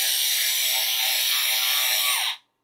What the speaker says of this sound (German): Wenn ihr einen Akkuschrauber nehmt, so wie ich, da ein bisschen Vorsicht walten lassen.